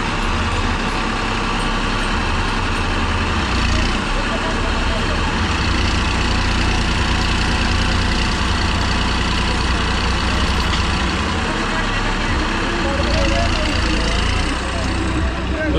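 A tractor's heavy diesel engine runs loud and continuous at a tractor pulling competition in a field, deep rumbling throughout with a couple of surges, with crowd noise and shouting voices over it.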